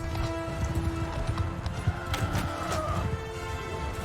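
Cavalry horses gallop in a battle in Mount & Blade II: Bannerlord, with rapid, dense hoofbeats close by, a brief neigh and bumps over a steady background din.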